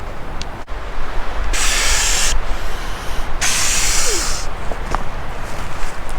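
Inflatable backpacking sleeping mattress being pumped up through its adjustable valve, heard as two loud, long bursts of rushing air, each lasting about a second, over a steady background hiss.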